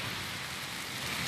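Steady rain falls outdoors during a livestream, a dense, even hiss of drops on surfaces that stays close and constant with no voice over it.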